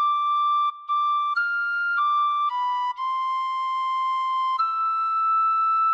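A tin whistle plays a short phrase of Silent Night, clear breathy sustained notes stepping through the melody with brief breaks between them, close and alone without any voices.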